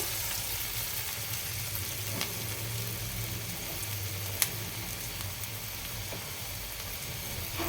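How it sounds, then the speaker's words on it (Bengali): Shredded cabbage pakora batter deep-fries in hot oil, making a steady, fairly quiet bubbling sizzle with a few faint ticks throughout. "দিলাম এবার পোকোড়াগুলো ভেজে নেবো"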